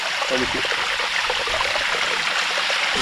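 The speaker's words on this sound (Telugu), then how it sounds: "మీరు చూడొచ్చు వాటర్ ఫాల్" Rushing water from the Vempalli waterfall in the Rayalaseema forests pours steadily nearby, a constant dense roar with a faint voice briefly audible underneath.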